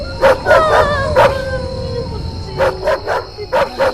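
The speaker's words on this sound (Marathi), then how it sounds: "अचानक कुत्रे भुंकू लागले" Dogs barking and yipping in quick bursts, a cluster at first then another run after a short pause, fairly close with a faint steady hum behind.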